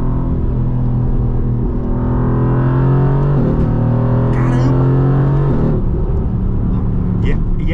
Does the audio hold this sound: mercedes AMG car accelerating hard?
yes